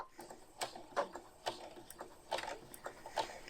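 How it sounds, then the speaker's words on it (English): A sewing machine stitches fabric for a gift bag in short bursts. Faint, irregular mechanical ticks and clicks come a few per second, quiet and close, with no voices. "it's really important just to do a small amount of stitching and then to stop, recheck your fabric and then carry on"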